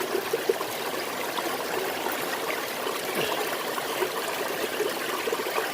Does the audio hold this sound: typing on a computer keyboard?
no